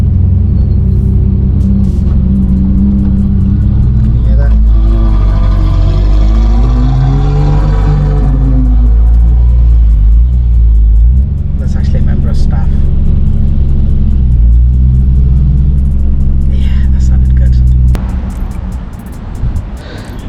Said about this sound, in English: Someone's leaving in his Ferrari.